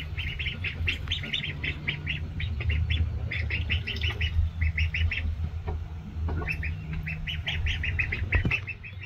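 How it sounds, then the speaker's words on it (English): Ducklings in a farm barn peep steadily in quick, high, repeated bursts throughout, over a constant low hum of background noise. "But they're cute little ducklings."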